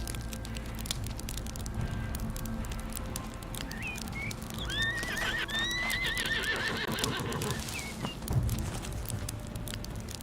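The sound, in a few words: horse neighing and hooves, video game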